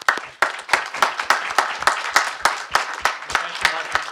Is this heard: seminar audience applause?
yes